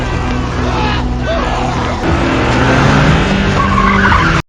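A stolen car charges at a person in a film scene, with loud tire skids and a roaring engine filling the whole stretch before the sound cuts off abruptly.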